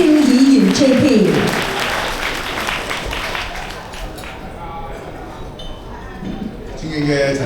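Applause from a seated audience welcoming a speaker at the inauguration ceremony of an automobile battery and tyre trade association: sustained, dense clapping that swells under an announcer's voice, eases off, then rises again briefly at the end.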